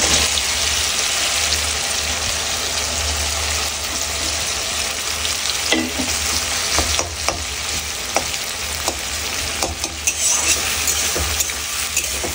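Onion frying in a pan with tomato for a chicken curry, a loud, steady sizzle with crackles and scattered stirring scrapes throughout, close and unbroken, no talk.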